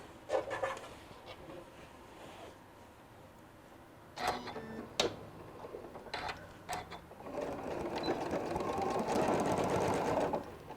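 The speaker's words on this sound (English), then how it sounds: "I'm just doing that 1/8 of an inch stitch" A sewing machine sews an eighth-inch seam along a St. Patrick's Day table runner. Short bursts of quiet rapid mechanical stitching are broken by pauses, then a longer, steadier run near the end.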